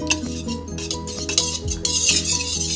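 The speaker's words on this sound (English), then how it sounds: "we're just gonna make sure the eggs and the milk are all mixed" Eggs and milk are stirred together in a bowl for a tres leches cake, giving a steady run of close scraping and light clinking from the utensil against the bowl, with a low tonal hum underneath.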